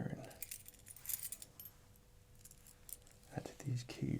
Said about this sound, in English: These keys right here, maybe I should give you the keys.